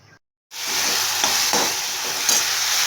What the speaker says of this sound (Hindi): राई जीरा डाल के प्याज और मिर्च डाली, मसाला भून रही हूँ।